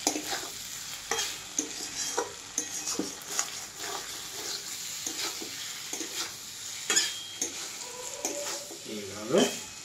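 Fried eggplant being stirred into a sizzling pan with a spatula, repeated scraping strokes in an uneven rhythm over a steady close sizzle, loud and without talk.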